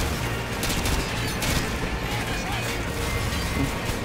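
Rapid gunfire from a mounted machine gun in the video game Call of Duty Modern Warfare 2, a dense continuous barrage of shots and impacts filling the whole stretch, with talk mixed in.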